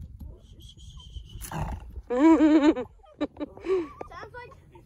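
A trapped bobcat growls and yowls loudly up close, giving a long harsh wavering cry followed by shorter snarls and hisses.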